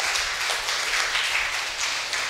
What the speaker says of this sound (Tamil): கைத்தட்டுங்க பார்ப்போம்